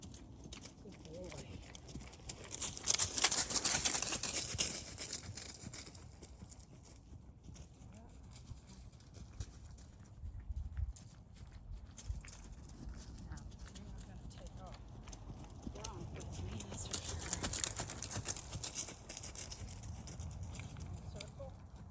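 Horse hooves clop rhythmically on an arena surface while a rider prepares for flying changes, louder in two stretches and softer between, with a voice speaking over them.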